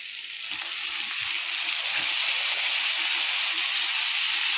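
Chicken pieces fry in a pan for a curry, giving a steady, close sizzle and hiss with faint low knocks of stirring early on.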